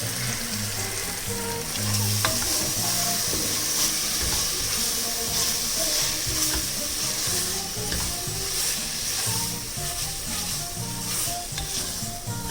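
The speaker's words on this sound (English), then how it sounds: "the haldi peppercorn paste. Mix it nicely." Haldi and peppercorn paste being stirred in a hot pan for prawn mappas, with a steady loud sizzle and a scraping spoon running all the way through, and no talking.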